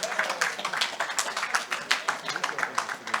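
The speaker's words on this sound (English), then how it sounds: "Please, a round of applause for Kunmi." An audience claps for a speaker at an architects' forum in Lagos, with steady, moderately close applause from a small crowd that holds even over a few seconds.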